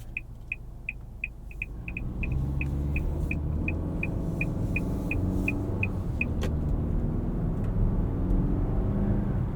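Inside a 2024 Nissan Altima 2.5 SL AWD on the move, a steady low road and engine rumble fills the cabin, with a regular electronic ticking like a turn signal clicking in the first several seconds.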